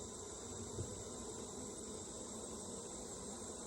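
A faint, continuous drone of honey bees rises from an opened hive under inspection, low and even, with no voices.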